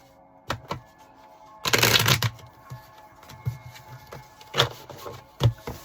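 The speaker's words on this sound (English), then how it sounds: "So let's go ahead and cut this deck here." A tarot deck is cut and shuffled by hand: one loud riffle burst in the middle, with sharp card taps and snaps before and after, close and clear, no talking.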